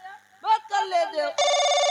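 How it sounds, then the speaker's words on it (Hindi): A telephone in a Hindi nautanki drama scene starts ringing loudly and steadily right after a short stretch of talk. "अरे संजू अरे माँ किसका फोन है? पापा जी का फोन है।"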